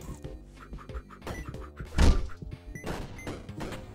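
Tennis-ball weapon shots in the game Dead Estate, a run of soft thunks and thwacks with one heavier impact near the middle, mixed with game effects and no talk.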